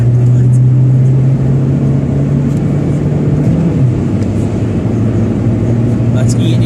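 Vauxhall Vectra C 1.9 CDTi 16v diesel accelerating hard on a wet Croft circuit, a steady loud in-cabin engine drone rising in pitch, with a driver talking over it.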